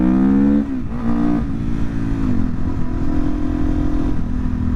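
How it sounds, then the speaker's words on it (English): A Suzuki DRZ400SM motorcycle with a flashed ECU revs loudly and close, its engine note dipping and climbing in repeated throttle blips with no voice over it. "the bike just overall sounds super mean, like significantly meaner with the ECU flash"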